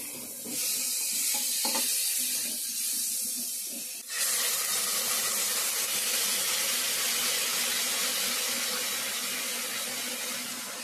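Water poured into spices frying in a pan for a fish curry with bottle gourd and potato, giving a loud, steady sizzle that swells abruptly around four seconds and continues strongly to the end, with no talking.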